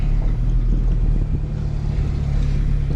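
A manual transmission car pulls away from a stop without added throttle, its engine a steady loud low rumble mixed with wind buffeting on the microphone, no speech.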